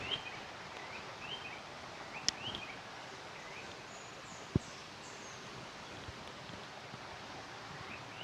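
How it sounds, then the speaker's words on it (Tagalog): A river flows somewhere below a hillside trail near an old tunnel, heard as a faint, distant, continuous wash of water with occasional soft bird chirps. "Ganda ng daloy ng tubig doon."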